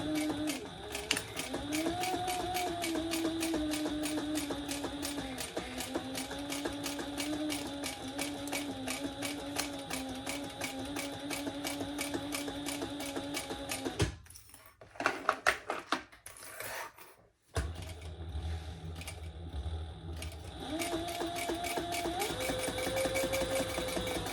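Sewing machine running fast, back stitching a cork bag, with a steady rapid needle chatter throughout, a brief stop with clicks and handling partway through, then stitching resumes at a close, even pace.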